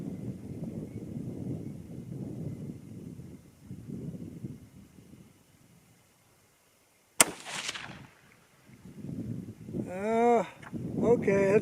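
A single sharp rifle shot from a Uintah Precision UPR-15 in 6mm ARC firing Sierra 90-grain TGK bullets cracks loudly outdoors, set between stretches of someone talking before and after it.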